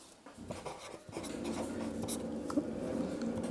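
An equation being written by hand, a pen or chalk scratching steadily in short strokes and continuous scrawls, close and fairly quiet, with no talking.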